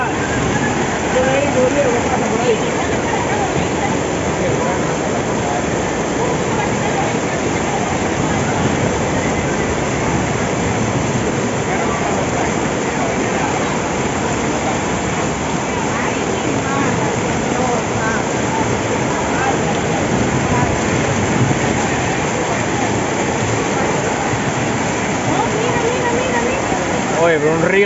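Floodwater surges through a street in downtown Santiago like a river, a loud, dense, continuous roar and rush that lasts the whole time, with voices faintly mixed in.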